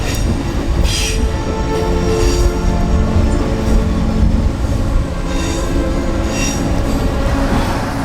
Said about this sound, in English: And the train also passes by right here.